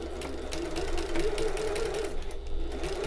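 A sewing machine back stitching along a shoulder bag seam, a steady close whir with quick stitch rhythm that runs without pause for a few seconds.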